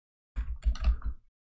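A few quick, soft keystrokes on a computer keyboard, typed into a browser address bar in a short close burst, with silence before and after.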